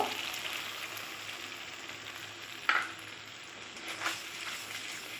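Potol posto malai, pointed gourd cooking with thickened milk cream, sautéing in a pan: a soft continuous sizzle with a couple of sharp stirring scrapes, heard alone at low volume.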